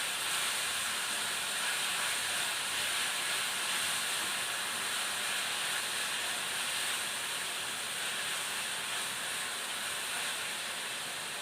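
Soft, even hiss of sliced onions frying with salt in a pan, a steady quiet sizzle throughout with no voices.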